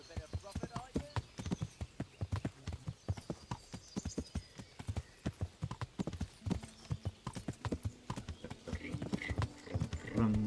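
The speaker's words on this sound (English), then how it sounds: "We're cantering on our horse and we're having a good time." Horse hooves canter in a steady clip-clop rhythm while riding in the video game Kingdom Come: Deliverance, close and prominent, with someone talking over much of it.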